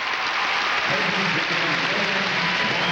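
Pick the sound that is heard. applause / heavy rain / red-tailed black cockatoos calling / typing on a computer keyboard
applause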